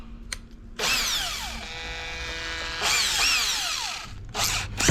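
A power drill fitted with a 4mm bit whines in two long, loud bursts with rising and falling pitch, then a shorter final burst, close to the microphone with no talking.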